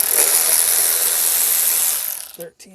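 A ratchet wrench turns 13 mm bolts on the engine shroud of a 6x6 amphibious vehicle with a Vanguard 16hp engine, as a fast, loud, close ratcheting buzz that stops abruptly near the end.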